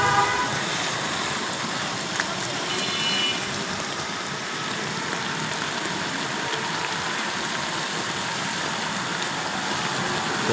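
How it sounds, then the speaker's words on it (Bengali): Steady hiss of rain falling on a flooded street, a dense continuous wash with faint vehicle sounds mixed in and no clear voices. "দেখতেছেন বৃষ্টির চোটে পানি জমে গেছে"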